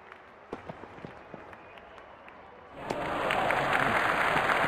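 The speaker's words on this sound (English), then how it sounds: "Crowd is going crazy." At a Pakistan versus India cricket World Cup match, the stadium crowd erupts after a six: scattered claps and noise give way to a sudden, sustained roar of cheering and applause.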